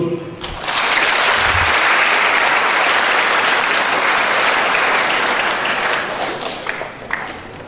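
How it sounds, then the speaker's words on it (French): A large congregation at a jubilee celebration applauds in honour of a diocesan bishop, a dense, loud roar of clapping that swells quickly after a brief voice and tapers near the end. "À son honneur, je vous prie d'applaudir"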